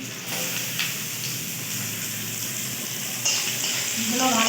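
Biuli dal is stirred in a pan of hot oil with five-spice seeds for a village vegetable dish, making a steady frying hiss with light scraping and a brief louder clatter near the end.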